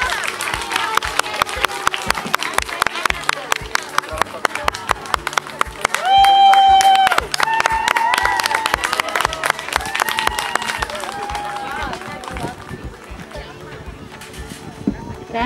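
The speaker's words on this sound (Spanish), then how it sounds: "Un aplauso más para la clase." An audience at a sixth-grade graduation ceremony applauds the graduating class, with steady, dense clapping throughout, some cheering voices, and a brief tone partway through.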